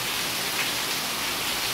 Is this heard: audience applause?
no